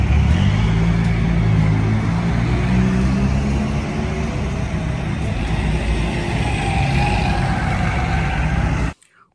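A toy-style bus engine drones steadily and loudly for about nine seconds with a low rumbling hum, then cuts off abruptly.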